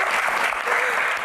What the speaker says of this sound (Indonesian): Tepuk tangan tuh keduanya.